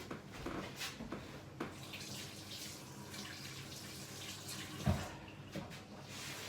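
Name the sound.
washing hands under a running sink tap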